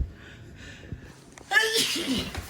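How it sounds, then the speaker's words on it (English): A staged, deliberately triggered human sneeze from a stage performer: a quiet build-up of breathy inhalations, then one loud, sharp sneeze burst that trails off into breath. "I can actually make myself sneeze."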